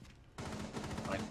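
Gunfire in Rainbow Six Siege, a burst of rapid shots starting abruptly after a quiet moment and carrying on loudly and continuously, close and dense.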